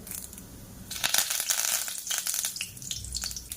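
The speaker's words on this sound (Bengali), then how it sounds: "তেলে ফোড়ন দেব দারুচিনি, এলাচ, লং, আর দেব কারি পাতা" Cinnamon, cardamom, cloves and curry leaves hit hot oil for a mutton and chickpea dal, bursting into a loud, close crackling sizzle with dense popping spatters that continue steadily.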